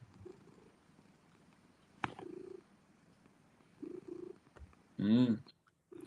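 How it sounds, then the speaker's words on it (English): A cat purrs softly in a low, steady rumble close by, with a few voice bursts breaking over it. "I can hear the purr."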